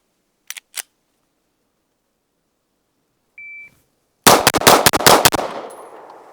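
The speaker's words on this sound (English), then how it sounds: "We're gonna try 115 grain now and see if we can get faster with the Archon." An Archon Type B Gen 2 pistol fires 115 grain rounds on an outdoor range in a fast, loud string of about eight shots that ring out into a decaying echo, preceded by a couple of clicks and a short beep.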